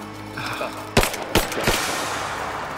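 Three sharp gunshots from the player's gun in the Rise of the Tomb Raider video game ring out in quick succession, spaced roughly a third of a second apart, loud over a low ambient game backdrop.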